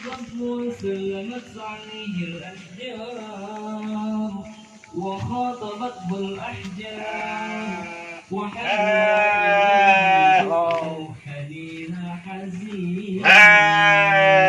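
Sheep in a pen at feeding time bleat again and again, close and loud, with several overlapping calls building into longer, insistent cries toward the end.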